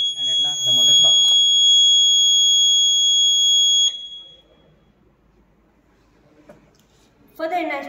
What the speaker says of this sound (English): the buzzer will beep